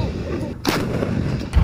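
A PLA new 155mm wheeled truck-mounted howitzer fires a live round during a field firing assessment; one sharp, powerful blast rings out midway, with its rumble trailing off afterward.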